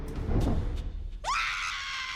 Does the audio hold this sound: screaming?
yes